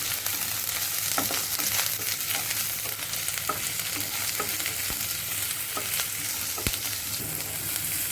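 Chopped onions and green chillies fry in hot oil in a pan for a creamy mushroom dish, a steady broadband sizzle with scattered clicks and stirring scrapes of the spoon throughout, close and continuous with no voices.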